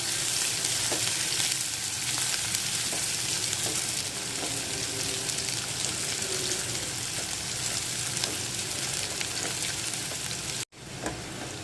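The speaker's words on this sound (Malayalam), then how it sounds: "ഈ ഒരു മസാലക്കൂട്ടൊക്കെ ഇട്ട് കൊടുക്കുക ഞാൻ കട്ട് ചെയ്തിട്ടാണ് ഇട്ട് കൊടുക്കുന്നത് നല്ല രീതിക്ക് ഇളക്കി കൊടുക്കുക" Masala mix sizzling steadily in a pan for dal curry as it is stirred, a dense continuous frying hiss close up with faint scraping, and a brief gap near the end.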